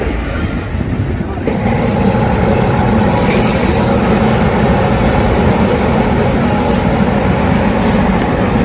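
A train rumbles loudly nearby as it departs a busy Karnataka railway station platform, its heavy steady roar growing after a couple of seconds, with a brief higher screech partway through.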